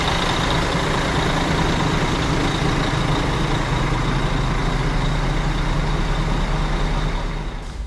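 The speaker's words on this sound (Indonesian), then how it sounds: "Betah gitu loh dengerin suara mesinnya." A bus engine idles with a steady, loud droning hum that holds constant throughout, with no talking.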